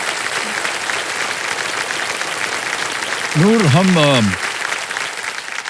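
A studio audience on a television quiz show applauds steadily to welcome a women's ice hockey team, the dense clapping sustained throughout, with a short rising-and-falling tonal swell near the end.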